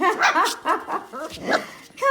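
Four-week-old Sheepadoodle puppies let out a string of high yips, small barks and whimpers, close and fairly loud, in short bursts one after another.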